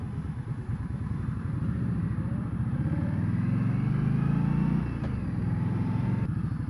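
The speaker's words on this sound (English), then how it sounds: "I can hear this bike, you know, by itself, and it sounds pretty good." A 2015 Indian Scout motorcycle engine runs steadily up close with a deep, even rumble that swells slightly midway, then settles back, with no voices.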